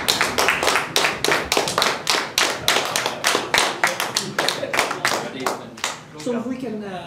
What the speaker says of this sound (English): I thank you and we give you a round of applause